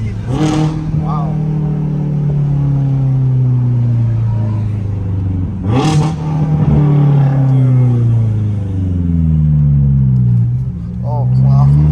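A tuned BMW M6 accelerating hard in a high gear, heard from inside as a loud, deep engine drone climbing steadily, with short blips at the shifts and voices talking over it.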